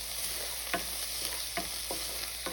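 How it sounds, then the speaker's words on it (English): Onions and ginger paste frying in a pan for Indian egg bhurji: a soft, steady sizzle with a handful of quick spatula scrapes at irregular intervals, close and without talk. "I'm going to add in our onions, a little bit of ginger paste, and just give that a quick stir"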